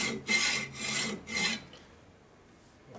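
A hand saw blade rasps through material in three long, even back-and-forth strokes, close and moderately loud, then falls quiet.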